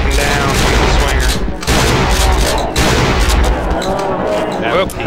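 Gunfire in the horror game Cry of Fear, a loud, dense burst of repeated shots and booms running nearly throughout, with a brief lull and voices partly under the noise.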